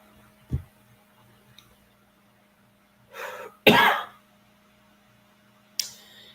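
A couple of harsh coughs close to the mic, then a short pause before another cough, with a faint tap or tick earlier and quiet in between.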